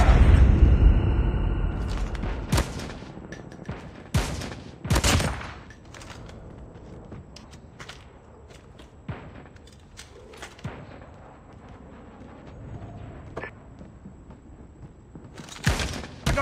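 Bursts of gunfire from a one-versus-one shooter video game round crack loudly at the start, then come in scattered single shots and short volleys separated by quieter gaps, with another burst at the end.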